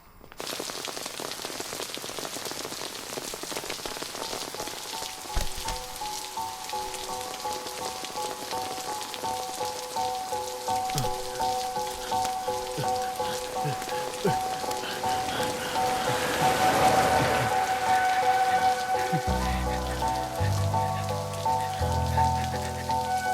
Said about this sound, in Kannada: ಈ ತರ ಮಳೆಲಿ ನೆನೀತಾ ಇರೋದು.